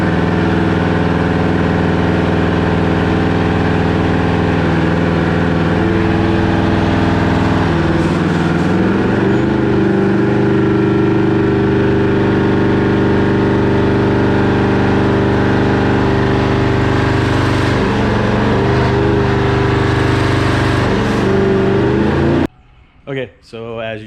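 A twin-turbo sixth-generation Chevrolet Camaro on ethanol fuel, running under part throttle with two ECUs and sixteen injectors, gives a steady loud droning engine note. It holds for about 22 seconds with slight pitch shifts, then cuts off abruptly.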